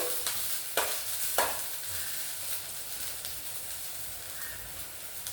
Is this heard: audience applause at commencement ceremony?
no